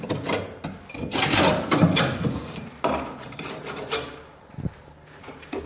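Blade scraping and rasping out excess material from under a ceiling timber while repairing a water-damaged ceiling, a busy series of close, gritty scrapes and rubs with short pauses, no talking.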